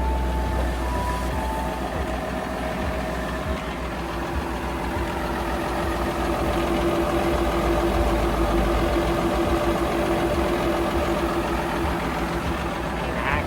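A Komatsu WA380-7 wheel loader's diesel engine runs at a steady idle, a continuous low rumble heard close with no one talking over it.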